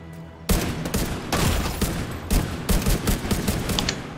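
Gunfire in The Division 2 video game: a dense burst of loud rifle shots and sniper fire cracks in rapid, irregular succession, close and harsh, with no talk.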